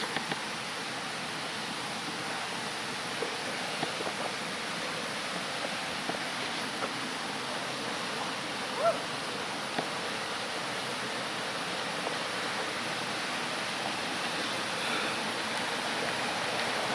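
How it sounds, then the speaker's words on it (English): A small waterfall on a hiking trail near Hardy Dam flows in a steady, even rush of water, continuous and moderately quiet with no voices over it. "It's not a big waterfall, but it's still a waterfall."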